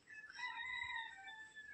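A rooster crows in a village in the morning, one long drawn-out call heard from a moderate distance over quiet surroundings, with no one talking.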